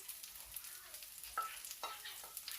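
Garlic sautéing in a pan for squid adobo gives a soft, low sizzle broken by a few brief scrapes and clinks of stirring, quiet and close, with no talking.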